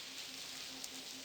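Heavy rain pouring down in the Blackwell Convergence adventure game, a soft, steady hiss of falling water with a faint repeating low hum underneath, quiet and continuous.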